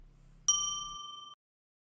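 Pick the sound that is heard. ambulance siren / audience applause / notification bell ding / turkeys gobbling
notification bell ding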